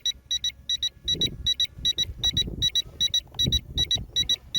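Rapid high-pitched electronic beeps in quick pairs from a Ruko U11 Pro drone controller repeat steadily throughout, with low rumbling background noise beneath them.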